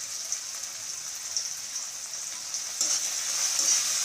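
Ground spices with turmeric, chili and coriander sizzle in a pan while being stirred, a continuous soft hiss that swells slightly toward the end, with faint scraping and no speech.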